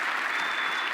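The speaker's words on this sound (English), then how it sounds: "give him a hand clap for being here" An audience at a gala dinner claps together for a survivor guest, a dense wash of steady applause at moderate volume, heard close and alone without any talking.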